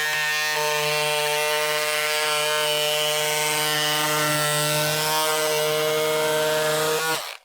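Electric scissors cut through coated canvas, a steady loud motor whine with a strong buzzing hum lasting about seven seconds, then stopping abruptly.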